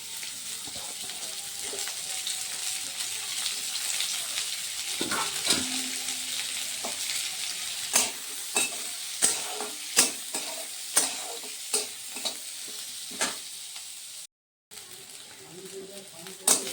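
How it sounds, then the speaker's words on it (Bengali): Onions and garlic fry in oil in a wok, giving a steady close sizzle broken by a run of sharp spoon clicks and scrapes against the metal, with a low voice passing briefly underneath. "এখন আমি পেঁয়াজ আর রসুনগুলোকে একটু ভেজে নেব কড়াইতে"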